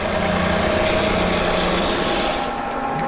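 A vertical milling machine runs a center drill, giving a loud continuous whirring drone with a steady mechanical tone and no pauses.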